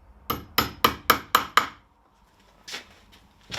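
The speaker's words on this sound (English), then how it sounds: "we'll quickly put some tacks in this just to hold it in place" Tacks are hammered into hessian on a chair frame: six sharp, evenly spaced strikes in quick succession, close and crisp, followed by a pause and a couple of softer taps.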